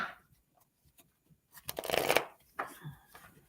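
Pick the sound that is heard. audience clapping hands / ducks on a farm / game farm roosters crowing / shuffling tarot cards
shuffling tarot cards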